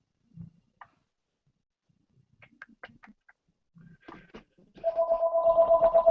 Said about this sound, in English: Of course, my phone goes off.